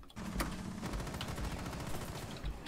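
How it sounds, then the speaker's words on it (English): Rapid bursts of automatic gunfire in Rainbow Six Siege crackle in a quick rhythmic stream of shots, moderately loud and slightly distant. "Someone's shooting"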